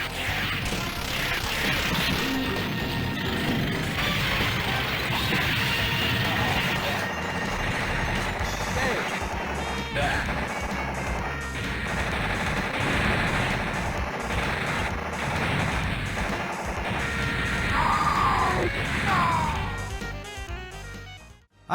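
Rocket launcher fire and explosions in an arcade video game: a dense, continuous barrage of booming blasts and crashes runs nonstop for about twenty seconds with electronic game effects, ending in a short zapping tone.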